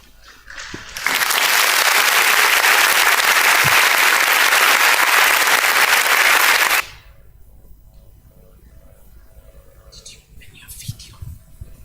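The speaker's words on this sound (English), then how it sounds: "Let's clap for her as she comes." An audience at a university Chancellor's Day ceremony applauds as a speaker comes up, a loud burst of many hands lasting about six seconds before stopping abruptly into quiet room noise and faint sounds.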